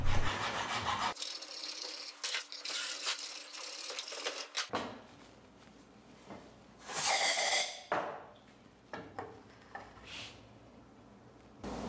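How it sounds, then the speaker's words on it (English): Rough rasping strokes of a file on a wooden kukri handle, shaping the hole for the tang, in uneven bursts with short pauses, up close and without speech. "I use a homemade broach and a file to make the hole perfectly fit the tang"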